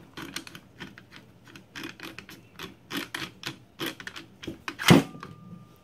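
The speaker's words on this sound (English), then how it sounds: "We're going to unscrew the barrel." Mechanical rubbing and ratcheting clicks from unscrewing the barrel of a Mossberg 500 pistol-grip shotgun during disassembly, a close series of short irregular scrapes with one sharper metallic clack near the end.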